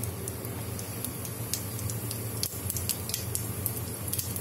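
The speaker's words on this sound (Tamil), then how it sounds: "இப்போ எண்ணெய் சூடாயிடுச்சுங்க, நம்ம கடுகு போட்டுடலாம்" Mustard seeds and cumin sizzle in hot oil, a steady close hiss dotted with many sharp little pops and crackles from the spluttering seeds, with no talking.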